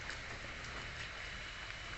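Steady rain falls in a wet outdoor setting, a continuous soft hiss of drops with no pauses or distinct impacts, fairly quiet and even throughout.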